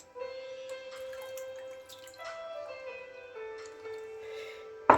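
Water drips and trickles from soaked feni vermicelli draining in a strainer, soft sporadic drips with faint tonal ringing, ending in a brief louder clatter.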